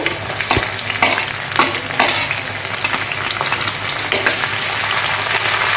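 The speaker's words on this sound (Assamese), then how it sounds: "অলপ মই এনেকৈ লৰাই ভাজি" Onions, cashews, ginger and garlic stir-fry in a hot wok, a loud, steady sizzle broken by repeated scraping strokes of the spatula, with no talking.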